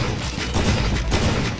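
An opponent fires in a one-on-one video game match. A loud, dense burst of rapid gunfire fills the moment as a continuous rattling barrage, with no speech over it.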